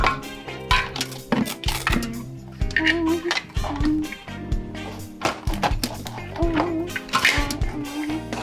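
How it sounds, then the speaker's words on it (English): Utensils clatter and scrape against a bowl as breakfast ingredients are mixed, with repeated close, sharp clinks and knocks in an irregular rhythm under brief voices. "I'm gonna mix everything up"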